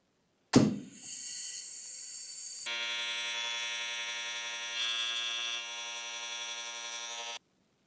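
Compressed air hisses steadily into residential plumbing lines during a pressure test, a continuous high, buzzing rush that starts with a sharp burst and holds evenly for about seven seconds before cutting off, with no talking.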